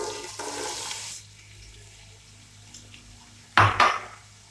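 Two onions going into hot oil for Afghani Kabuli pulao: an opening hiss fades to near quiet, then a sudden loud burst of sizzling with clattering that slowly tapers off.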